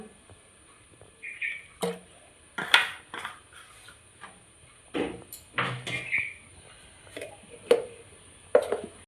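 Ghatkol leaves ground with a little water on a stone, heard as a series of sharp knocks and scraping strokes coming at uneven intervals, close and fairly loud, with no voices.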